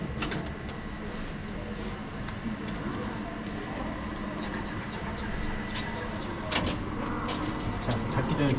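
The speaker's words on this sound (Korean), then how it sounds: "꼬모에 있는 기차 역이고요" Ambient noise of a busy train station in Como, Italy: a steady rumble and murmur with scattered clatters and sharp knocks, heard close and continuous without clear speech.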